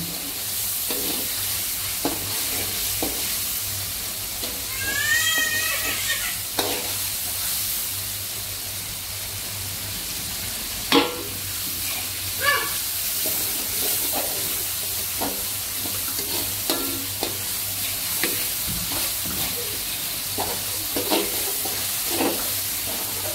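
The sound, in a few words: duck meat frying and stirred in curry pot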